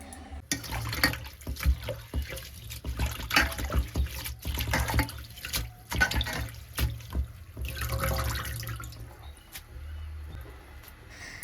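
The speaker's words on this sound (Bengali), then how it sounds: "শাকটাকে এখন ধুয়ে নিব" Leafy greens are rinsed under running water, a close, continuous splashing and trickling with hand movements in the stream, rising and falling in surges throughout.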